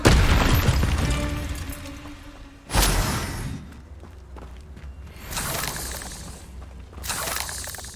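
Expelliarmus disarming spell in Hogwarts Legacy, a sharp shattering burst with a boom that decays over a couple of seconds, then another crisp magical crack, followed by fainter whooshing spell flares.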